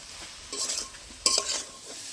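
Vegetables and spices being stir-fried for a fish curry: two quick bursts of scraping and sizzling against a quiet low hiss, close by, with no talking.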